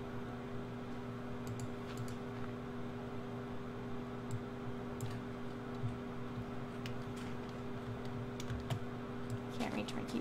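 Computer keyboard at a desk, tapped in sparse, irregular keystrokes that sit faint under a steady fan-like hum.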